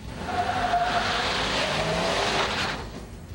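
A four-wheel drive Dodge truck drives through winter conditions, giving a steady, fairly quiet broadband rush of engine and tire noise with a brief faint whine.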